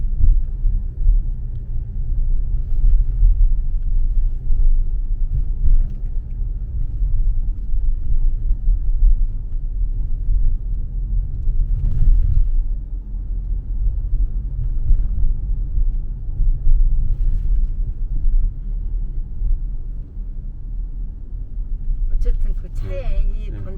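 A car's engine pulls up a slight incline with light throttle, a steady low rumble carrying on throughout with road noise, while people talk inside the car over it.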